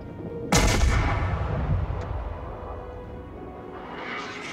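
Naval gunfire in World of Warships, the player's ship opening fire on a Fuso battleship: one loud, close heavy cannon blast that booms and then rolls away into a long, rumbling decay, with no voices.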